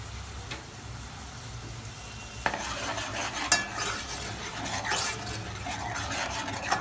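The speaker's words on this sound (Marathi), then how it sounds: "आता ही पेस्ट चांगली फ्राय होऊ द्यायची" Onion and tomato paste frying in a pan for lasooni chicken, a low steady sizzle with scraping spoon strokes and scattered clinks of utensil on metal growing busier partway through.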